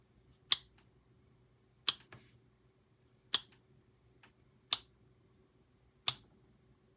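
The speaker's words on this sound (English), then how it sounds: "We got to be quiet for this so they can just hear the sound of the coin." A silver Morgan dollar rings five times in a Pocket Pinger tester, each sharp metallic strike followed by a bright, clear tone that decays over about a second, evenly spaced in quiet surroundings.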